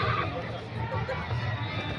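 A horse whinnies at the Sarangkheda horse festival, a short neigh heard amid crowd murmur and nearby voices.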